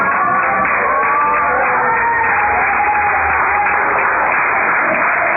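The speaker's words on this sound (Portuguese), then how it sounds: "bater palmas agora a Jesus" A church congregation applauds for Jesus in a steady, dense wash of many hands clapping, with a few voices and sung or spoken tones ringing through the continuous crowd noise.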